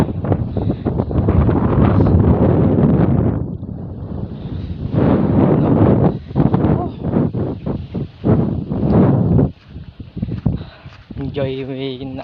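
Strong gusty wind buffets the microphone in a roaring, rumbling wash outdoors at a scenic hilltop spot, with people talking over it and a brief lull partway through.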